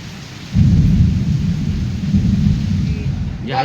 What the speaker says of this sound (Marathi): छान असं पाऊस पडायला सुरुवात झाली